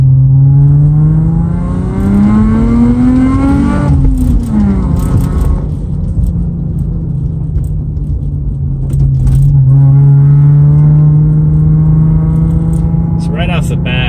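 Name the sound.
Lexus IS300 engine revving, HPS intake, equal length header, 3-inch exhaust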